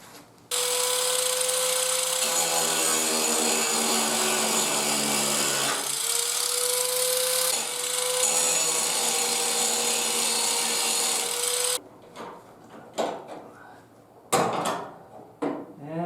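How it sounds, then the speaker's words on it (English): A grinding wheel shaves down a small metal nub on the tailgate of a 1978 Ford F150, a loud steady high-pitched whine with slight pitch dips that runs for about eleven seconds, then stops and leaves scattered clanks and handling noises. "we're just going to grind a little bit off of this little nub here, enough so that we can fit the support over it"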